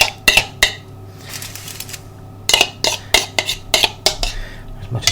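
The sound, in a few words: spoon scraping marinade onto lamb ribs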